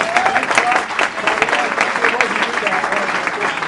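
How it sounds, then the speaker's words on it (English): A live audience at a comedic magic show on sex education gives brisk, dense applause, loud and close, with a voice faintly heard beneath the clapping. "short applause"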